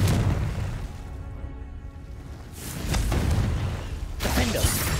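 A Confringo fire spell blasting in Hogwarts Legacy, with a couple of deep booming bursts over rumbling game sound, loud and close, while a voice talks briefly.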